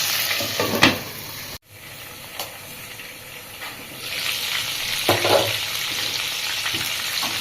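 Chicken fries in a pan with a continuous close sizzle and hiss, a brief cut partway, then louder spattering bursts and clanks of stirring.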